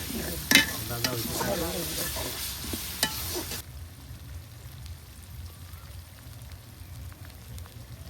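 Mace and nutmeg frying in a pan for biryani, with a close crackling sizzle and stirring scrapes for about three and a half seconds before dropping to a faint low hiss.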